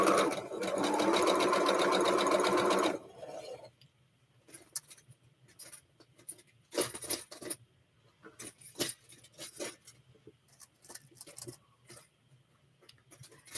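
Sewing machine stitching a shamrock quilt block, a steady fast whir for about three seconds that stops abruptly, followed by quieter clicks and handling noises.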